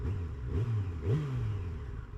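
A Yamaha FZ1N motorcycle engine revs up twice in quick succession, a deep rising growl that swells and eases over a steady low idle, heard fairly close with no talking.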